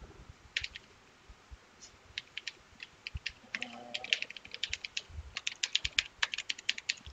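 Fingers tap out an email address on a computer keyboard, quick irregular clicks in bursts, close and fairly quiet, with no talking.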